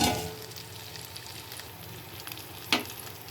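Salt, chili powder and turmeric frying with onions in a pan, a quiet, even sizzle with a brief louder scrape near the end, close and with no talk.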